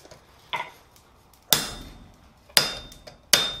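A hammer strikes a punch driven through metal on an anvil, four sharp ringing blows spaced unevenly, the last three loudest and leaving a bright metallic ring, close and with no talking.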